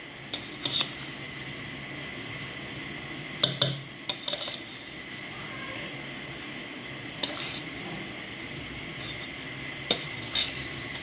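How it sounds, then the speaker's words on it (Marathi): Rice being stirred and mixed in a pot for vegetable pulao, with soft scraping under a steady background hiss and a few sharp metallic clinks of a spoon against the pot at intervals. "भात टाकल्यानंतर मिक्स करून घ्यायचं आपल्याला"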